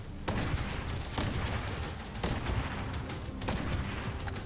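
Four booming sniper rifle shots from a video game, evenly spaced about a second apart, each with a dense, sustained roar.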